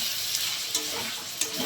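Spices with turmeric and a splash of water sizzle in a pan for a magur fish and potato curry, a steady hiss broken by three sharp scrapes of a spoon stirring the mixture.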